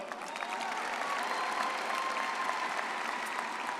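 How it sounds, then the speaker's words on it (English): Steady applause from a large commencement audience, fairly distant and even, holding continuously without breaks. "All right, round of applause for them."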